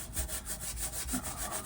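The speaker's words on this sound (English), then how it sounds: "all I'm doing is taking a little bit of wet steel wool" Wet steel wool scrubs the old paint on a vintage Ford truck in quick, even back-and-forth strokes, a close, rough rasping rub repeating about five times a second.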